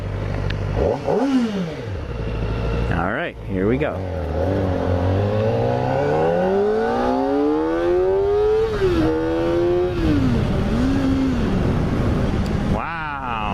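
Kawasaki ZX-4RR motorcycle engine revving hard and accelerating through the gears, its rising scream dipping at each shift and climbing again, loud and close throughout, with a rider's brief excited remarks over it.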